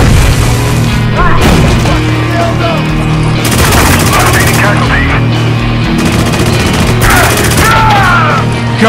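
Explosions and heavy gunfire from a firefight in the video game Spec Ops: The Line, with booms including a sticky grenade blast, loud and continuous throughout with shouted voices mixed in.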